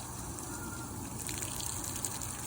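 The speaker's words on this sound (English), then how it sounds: "you're going to do is you're going to rinse this off with your hose" Water from a garden hose sprays steadily, cascading down to rinse a window screen, a continuous close rushing and splashing hiss with no talk.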